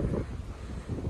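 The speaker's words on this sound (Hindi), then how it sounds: "तो यहाँ पे इतनी तेज हवा है" Strong wind buffets a microphone outdoors, a continuous low rumbling roar with gusts at the start and end, close and fairly loud, no talking.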